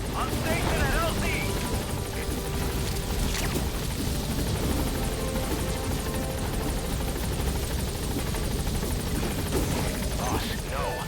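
The Pequod helicopter in the Metal Gear Solid V video game, a steady rotor drone at moderate level running throughout beneath game voices and other sounds.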